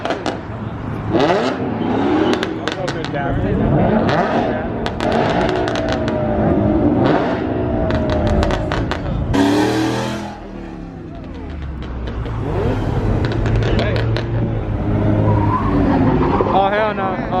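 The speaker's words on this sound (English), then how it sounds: "Bro, that Mustang got sideways." A Ford Mustang slides sideways at a car meet, its engine revving hard with tire squeal across the run, loud and close, a brief lull near the middle. Spectators talk and shout throughout.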